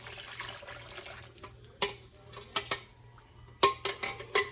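Water and enchilada sauce pour into a crock pot holding ground beef, a low steady liquid splash broken by several sharp clinks and taps of containers against the pot, close and fairly quiet with no talking.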